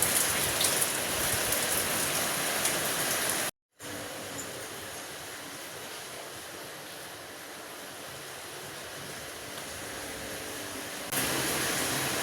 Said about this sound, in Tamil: மழை விடவே மாட்டேங்குது